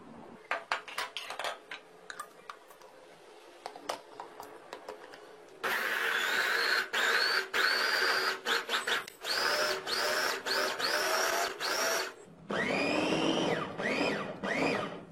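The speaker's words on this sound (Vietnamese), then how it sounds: "tỏi và ớt thì các bạn xay nó như thế này" A food processor whirs loudly in repeated pulses, short bursts of grinding chopping garlic and chili for eggplant kimchi, after a few seconds of quieter clicks and handling noises.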